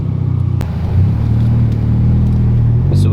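A VW MK6 GTI with a new ARM downpipe and midpipe, heard from inside the cabin with the windows up, gives a loud, deep exhaust drone that swells as it accelerates and holds a steady rumble.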